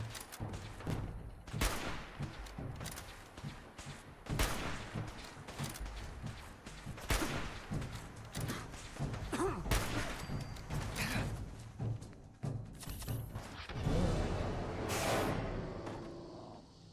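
Minigun fire in a video game arrives in repeated rough bursts of rapid shots, some near and loud, others fading, with mechanical clanks and creaks between volleys.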